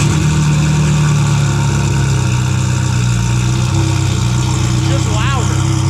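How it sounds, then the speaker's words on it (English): A car engine runs loud and close with a deep, steady rumble and a Ferrari-like rasp. Voices talk over it. "Sounds like a Ferrari, but louder."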